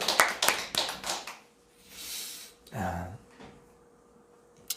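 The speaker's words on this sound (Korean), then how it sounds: "하나님 영광의 박수" A quick run of sharp hand claps from a church congregation during a Sunday sermon opens the clip, then fades into a voice speaking.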